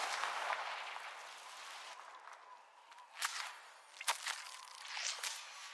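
A Confringo fire spell is cast in Hogwarts Legacy, giving a few sharp, crackling blasts and whooshes over a steady background hiss of game ambience.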